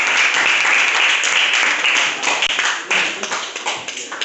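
Students applaud their classmates in an Indonesian maths class on number lines, a steady burst of many hands clapping together that thins and breaks into scattered claps toward the end.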